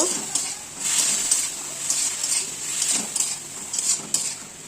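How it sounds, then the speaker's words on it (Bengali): Red amaranth greens sautéing in a pan with mustard seeds, cumin, garlic paste, salt, turmeric and chili powder, giving a steady close sizzle with repeated scraping and stirring bursts, no talking. "অল্প নুন, হলুদ আর লঙ্কা গুঁড়ো দিয়ে ভালো করে কষিয়ে নেব।"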